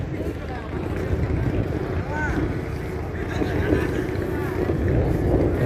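Passenger launch boat engine on the river near Sadarghat, a steady low rumble with wind buffeting the microphone and water wash throughout, fairly close and continuous.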